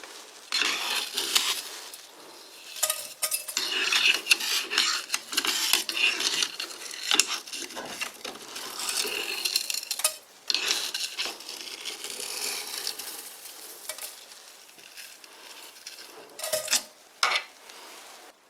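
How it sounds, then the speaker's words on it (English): Metal lathe cutting a collet chuck backing plate for an ER32 collet chuck, with continuous scraping, chattering metallic cutting noise in irregular bursts and brief pauses, fairly close and alone. "let's get back to the lathe and remove some more material."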